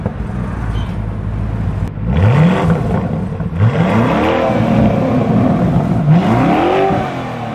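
A Lamborghini Urus SUV in basic mode starts up and its engine and exhaust rev loudly three times, each rise swelling and falling, then settle into a steady, near idle rumble.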